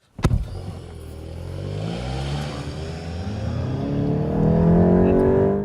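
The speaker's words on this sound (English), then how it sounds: "So that was accelerating from not quite 40 kilometers per hour." A car on Goodyear Vector 4Seasons all-season tires accelerates from just under 40 km/h, the engine note climbing steadily in pitch and loudness over road and tire noise after a brief knock at the start, no speech.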